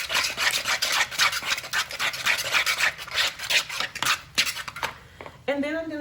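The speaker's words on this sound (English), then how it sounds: "This is just a little bit of mild cheddar, shredded cheese. So I'm going to add that and whisk that." Shredded mild cheddar being whisked into a mixture for sausage biscuits, with rapid scraping clinks of the whisk against the bowl, close by, ending in a brief pause.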